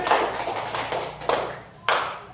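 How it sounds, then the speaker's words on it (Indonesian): Classroom pupils give a short burst of applause, a few quick claps in scattered clusters, close and moderately loud. "Beri tepuk tangan dulu."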